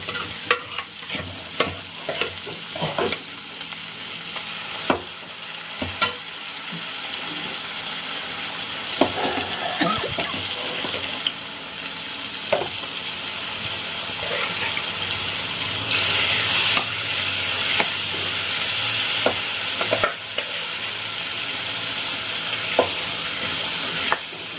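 Boiled lentils being stirred into a hot tempering for mango dal, with a steady frying sizzle broken by repeated scraping and clanking of a spoon against the pan, close up and without talk.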